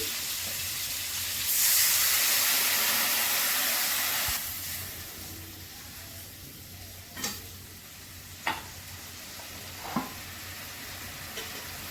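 A sudden loud hiss and sizzle as water hits a hot pan of frying ground spices, cumin powder and salt, fading after a few seconds, followed by a few sharp metal scrapes of stirring.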